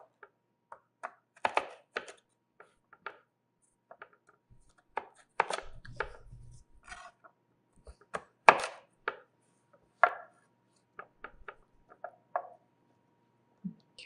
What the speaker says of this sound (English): Cut them into 1/2-inch cubes.